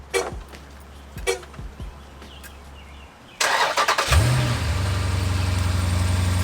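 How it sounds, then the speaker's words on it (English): An SRT car parked with its kill switch active is remote started: a few faint clicks, then a sudden cranking burst as the engine catches, flares in a rev and settles into a steady, close idle. "So the car does start with the kill switch active, okay?"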